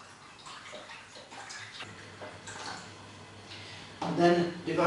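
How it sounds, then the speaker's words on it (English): Water poured into a container serving as a two-compartment model rises to a louder, burbling fill near the end, with a steady hiss of running water under a soft voice throughout. "I'm going to fill this with water."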